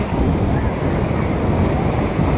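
Steady roar of surf and gusting wind on the beach at Bapatla, loud and close, with wind buffeting the microphone throughout.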